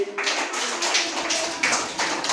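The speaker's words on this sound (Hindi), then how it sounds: "ताली बजाओ भाई" Small children clapping their hands together in a few short, quick bursts, fairly close and loud, with no talk over them.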